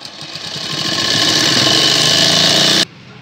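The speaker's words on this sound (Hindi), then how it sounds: "इस तरह से मशीन के पैर से आप पूरे में सिलाई लगा लें" Sewing machine running steadily as it stitches fabric for a child's Afghani salwar, a loud close mechanical whir that builds over the first second, holds evenly, then stops abruptly near the end.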